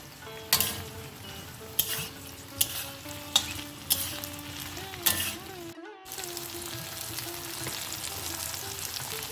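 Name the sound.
eggplant added to potato and pumpkin, frying and stirring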